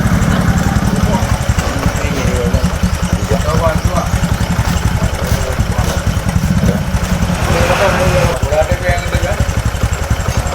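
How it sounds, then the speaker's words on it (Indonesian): A motorcycle engine idles steadily and close by after its spark plug was fixed, a continuous loud chugging rumble that holds throughout with no pauses. "Nah ini sudah hidup motornya teman-teman"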